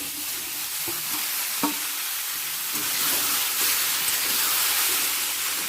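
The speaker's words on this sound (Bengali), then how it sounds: "হাই ফ্লেমে আমি সবজিটাকে ক্যাপসিকাম ছাড়া পুরো সবজিটা আমি একটু ভেজে নিলাম" Vegetables stir-fry over a high flame before capsicum is added: a loud, continuous hissing sizzle with a few early knocks and scrapes of the spatula.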